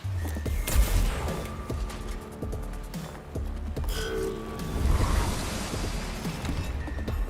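Gunfire aimed at the Immortal in Warhammer 40,000: Mechanicus, a loud volley of sharp shots and metallic clanks over a rumbling battle backdrop, with bursts recurring across the few seconds.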